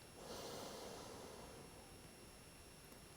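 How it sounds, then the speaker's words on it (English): A single long, deep inhale taken slowly through the nose or mouth as part of a guided breathing exercise, close and airy, swelling quickly and then holding as a soft steady hiss, with no talking. "breathing in"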